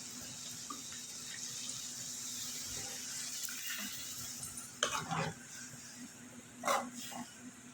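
Water is poured into a pan of ivy gourd curry, a quiet splashing that rises in two short bursts over a faint kitchen background.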